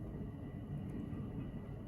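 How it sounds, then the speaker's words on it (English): A steady low rumble fills the space, like a train rolling past at a distance, continuous and unbroken with no voices. "I'm gonna wait for the train to pass."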